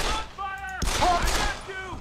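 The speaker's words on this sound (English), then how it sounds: "Gunfire!" Gunfire in the video game Deus Ex, a short burst of shots near the middle, set among game character voices that shout over it.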